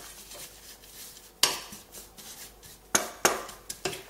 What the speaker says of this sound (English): I'm just going to grab a little spatula and coat the oats in the extra virgin coconut oil.